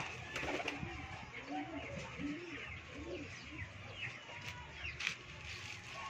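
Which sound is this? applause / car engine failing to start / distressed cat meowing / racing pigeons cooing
racing pigeons cooing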